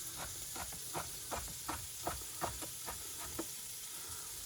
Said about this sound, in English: You know you got heat when you hear that sizzle.